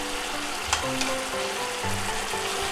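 Swordfish teriyaki sauce simmering over low heat in a frying pan, a steady soft sizzle and bubbling with a few faint clinks, no talking.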